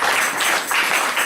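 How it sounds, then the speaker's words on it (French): Applause from a church congregation, a dense, continuous wash of clapping that swells and dips slightly throughout, loud and close. "Acclamation pour le Seigneur."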